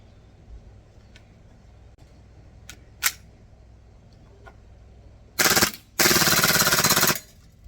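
An Acetech Drumfire gas blowback airsoft gun fires two full-auto bursts, the first short and the second longer and sustained, a loud rapid rattle of shots following a few isolated clicks and handling knocks in a quiet room.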